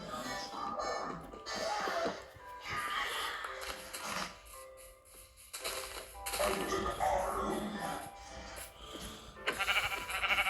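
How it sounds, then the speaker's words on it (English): Sheep bleat repeatedly over busy Minecraft game sounds and background music, the calls fairly loud and scattered across the stretch. "Oh, still the sheep."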